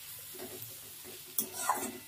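Onions being stirred and turned in a pan as they fry, a faint soft sizzle with a few quiet scraping strokes of the spoon.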